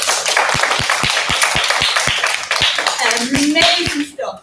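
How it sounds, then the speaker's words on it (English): Children at a school assembly give a round of applause, heard as a string of distinct, fairly regular claps with a voice speaking over the latter part. "can we give all 14 stars of the week a huge Zaytouna round of applause?"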